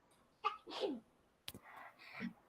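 A sharp, close sneeze with short breaths around it in an otherwise quiet room.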